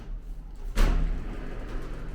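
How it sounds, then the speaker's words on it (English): A small bathroom sliding door in a Puerto Rico rental bumps shut with a single dull thud, close by, followed by a low room hum. "Little sliding door for the bathroom."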